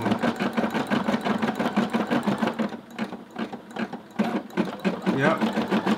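An embroidery machine stitching a long jump stitch, a loud, fast, steady needle chatter with a constant motor whir, close by, with a voice talking over it.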